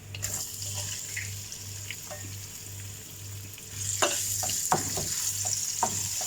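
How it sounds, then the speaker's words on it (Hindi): Chopped onions fry in hot oil with cumin and asafoetida for a masala dish, a steady soft sizzle joined partway through by scraping, clattering stirring strokes close by; no one speaks. "अब ओनियन को फ्राई करना है।"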